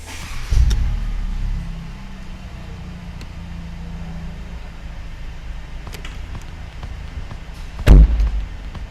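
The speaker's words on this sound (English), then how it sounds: "So now let's close the rooftop" Retractable hardtop roof of a Mercedes-Benz SLC 300 Final Edition closing: a soft motorized whir with a thud at the start, faint mechanical ticks, and a firm latching clunk near the end.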